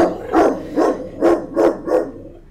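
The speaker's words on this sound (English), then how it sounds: "and that's Miles, my dog, saying hello." A pet dog barks five times in a steady, evenly spaced series, loud and close to the microphone, with no talk over it.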